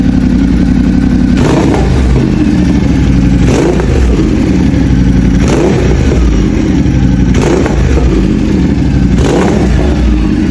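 Ducati Multistrada 1200 Enduro fitted with a Termignoni full exhaust, revved in five sharp blips roughly two seconds apart over a loud, steady idle, close by and with no talking.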